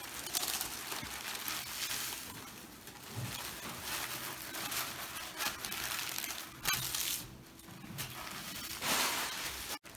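Stacks of tissue paper for papel picado crinkle and crumple as they are folded, a continuous papery rustling with louder crisp bursts, close and alone without talk.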